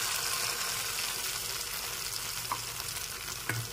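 Masala paste thinned with a little water fries in a pan for a no-onion, no-garlic dahi paneer, giving a soft, even sizzle with a couple of faint stirring scrapes and no talking.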